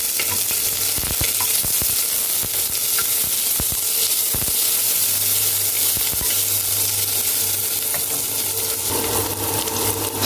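Sliced onion sizzles in a pan with cinnamon stick, green cardamom and star anise, a loud, steady frying hiss broken by occasional stirring clicks close by.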